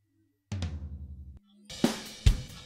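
Soloed drum toms from a home-recording mix: a couple of close, booming tom strikes with long low ringing decay, then a few sharper, louder hits in quick succession, with no other instruments.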